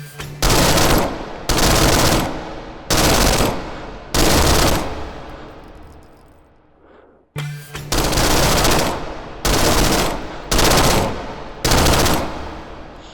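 Gunfire at pop-up targets in the VR shooter H3VR, loud bursts of rapid automatic shots in about eight separate volleys with short gaps, one longer pause midway, no talking.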